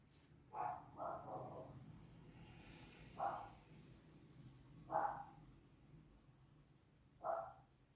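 Dogs bark behind a closed door, muffled and faint: a quick pair of barks, then single barks spaced a couple of seconds apart over a low room hum.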